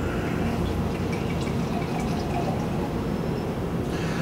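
Wine glugs from a one-liter bottle into a glass in a steady, continuous pour, close and fairly loud with a dense splashing wash throughout.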